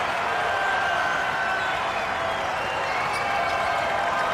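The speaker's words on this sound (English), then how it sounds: "the Riley Center crowd is on their feet" A basketball crowd at the Reilly Center stands and cheers, steady applause and roaring voices filling the arena for the whole stretch at a moderate level.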